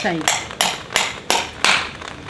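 A brass mortar and pestle pounds five times at a steady, unhurried pace, each strike a sharp, close metallic clank with a ringing tail.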